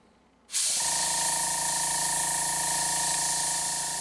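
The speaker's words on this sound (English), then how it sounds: "So let's start spraying that on." Spray paint hisses steadily from an aerosol can onto a computer case, starting abruptly after a brief quiet moment and continuing as one loud, close, unbroken spray.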